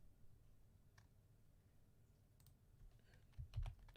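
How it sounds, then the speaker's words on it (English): Quiet keyboard clicks tick away near a computer, sparse and faint, with a slightly louder cluster of taps toward the end over a low hum. "Wolf, please do not step on the keyboard."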